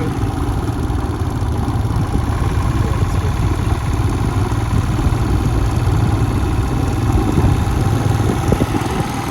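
A motorcycle engine idles on the Leh–Manali highway among snowy mountains, a steady, close, throbbing rumble running unbroken throughout with no voices over it.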